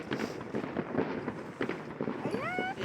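Fireworks and firecrackers bursting close by, a run of sharp pops and crackles in irregular rhythm, ending with a rising whistle from a launching rocket.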